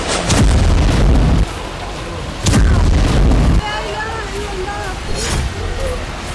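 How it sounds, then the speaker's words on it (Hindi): Heavy gunfire booms during a clash between Israeli army troops and militants near Tulkarm camp in the West Bank, two loud sustained bursts of firing with shouting voices heard between them. "इजरायली सेना और हमास समर्थकों के बीच जमकर फायरिंग हुई"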